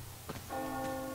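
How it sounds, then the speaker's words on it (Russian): A single deep bell in the video game Metro Exodus strikes and rings on with a sustained, shimmering tone after a couple of faint knocks. "Колокол, ну да."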